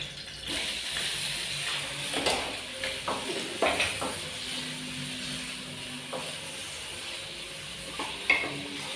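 Onions frying in a home kitchen pan, a steady sizzle with a spoon stirring and scraping against the metal in several short bursts, fairly close and with no talking.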